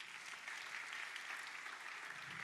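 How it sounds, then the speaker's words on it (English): A church congregation claps as someone comes up on stage, a continuous, even wash of applause heard from a distance at low level. "Let's clap for Pasi as he comes."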